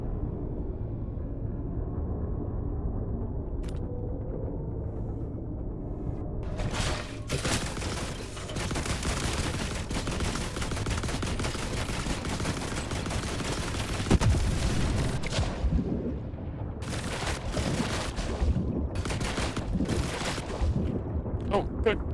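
Gunfire during a firefight in The Last Caretaker video game, starting sparse and building into a dense, continuous barrage of shots and blasts that fills most of the stretch, with players talking over it.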